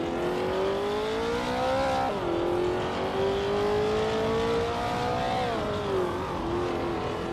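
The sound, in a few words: vintage Porsche race cars racing around a track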